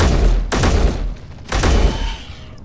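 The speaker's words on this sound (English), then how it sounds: "Guns are shooting at something." Mech guns in Space Engineers, heard as two loud heavy bursts of rapid fire about a second apart, close and booming, each trailing off before the next.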